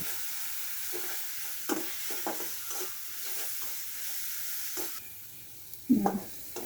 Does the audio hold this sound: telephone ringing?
no